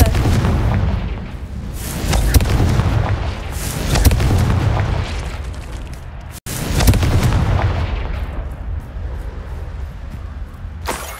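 Confringo fire spell blasts in the video game Hogwarts Legacy: loud, booming explosions that roll on continuously, swelling at several points, with one brief cutout midway before the rumbling blasts resume.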